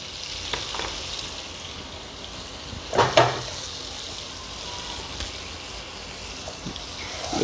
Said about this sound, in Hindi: देखिए बटर अभी पिघल रहा है, इसके साथ ये जो गार्लिक, महीन कटा हुआ गार्लिक जो है वो मैंने डाल दिया है